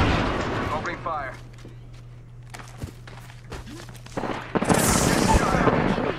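Gunfire in a shooter video game: sharp shots crack out in scattered single reports and short bursts over a steady low hum, with a louder burst of noise near the end.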